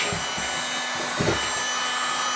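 A hot air blower on its low setting warms a Harley Davidson X90 motorcycle gas tank, giving a steady close-up whooshing hiss, with a few faint knocks or shuffles underneath.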